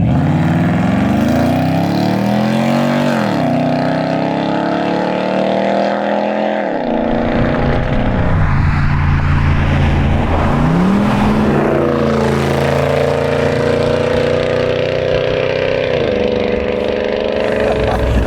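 Custom-built Land Rover driving, a loud engine droning close up with rising and falling revs as gears shift, steady and continuous without talk.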